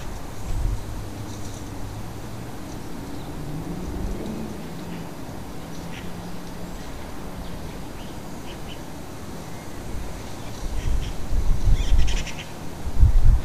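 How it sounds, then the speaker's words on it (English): Magpies call from shrubs and trees near a nest, brief harsh chirps scattered over a steady outdoor background hiss, with occasional low rumbling bursts. "The sounds of magpies keep her on edge."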